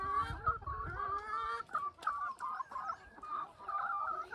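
Chickens cluck and squawk on a farm near Kathmandu, a run of close, repeated clucks with brief pauses, one bird sounding loud and near throughout.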